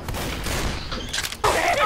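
A grenade launcher firing in the video game Left 4 Dead 2, heard as a dense burst of booming shots and gunfire, a sharp louder blast near the end, with faint voices under it.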